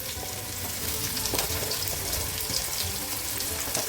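A small sliced onion sautéing in hot oil in a pan, a dense close sizzle with occasional stirring scrapes over four seconds, nobody speaking.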